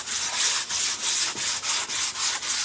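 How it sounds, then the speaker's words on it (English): A small sanding block rubs back and forth over a wooden porch leaner board, about nine steady, even strokes in a close, moderately loud rhythmic swish. "I'm just going to give it a little sand with my little sanding block here."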